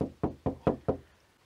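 Knuckles rapping on the body panel of a parked car, five quick, evenly spaced knocks, close and fairly quiet, the last one dying away into silence.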